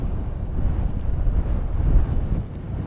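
Winter wind on Crag Hill buffets the microphone in a continuous low, gusty rumble that swells and dips over a few seconds, with no voices.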